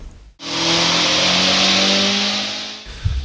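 A tuned 500 bhp Audi A3 engine with a G25 turbo revs hard and steadily at high pitch to redline on a dyno, loud and close, then cuts off abruptly with a brief mechanical clunk.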